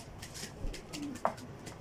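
Iraqi pigeons coo softly at a distance in a quiet outdoor setting, a couple of low, brief calls with a faint sharper bird note.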